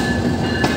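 Modhumoti Express train pulling into platform 7 at Dhaka station, its wheels and carriages giving a steady, close rumble with a faint clatter, and no voices.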